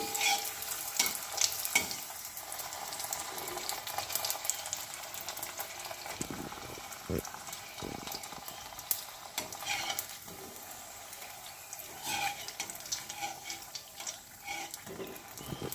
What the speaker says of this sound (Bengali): একটু লাল লাল লাল লাল করে ভাজতে হবে